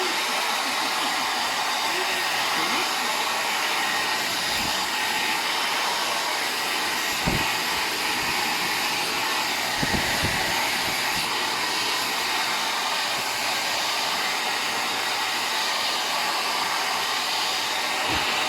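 A hair dryer blows with a loud, continuous whooshing roar throughout, with a few faint thumps underneath.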